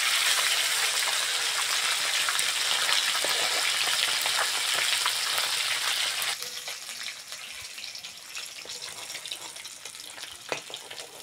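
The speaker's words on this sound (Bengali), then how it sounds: "বাকি মাছগুলো এরকম ভাবে ভেজে নেব" Fish sizzles and spits steadily in hot oil in a pan, a loud continuous crackle that drops in level partway through and goes on with scattered pops, with no talking.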